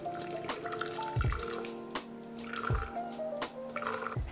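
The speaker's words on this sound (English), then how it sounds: "Pour 2 ounces of 190 degree Fahrenheit or 87 degrees Celsius water over the coffee grounds in the canister of the French press" Hot water at 190°F poured over coffee grounds in a French press canister: close, gentle trickling and dripping with a few small splashes, quiet and uneven.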